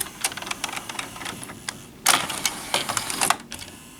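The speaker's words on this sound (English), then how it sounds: "Actually takes the tape and puts it right into that player" Pioneer CT-M66R six-cassette changer from 1990 loading a tape, a run of close mechanical clicks, clatters and whirring clunks with a louder burst of motor and gear movement midway, no talking.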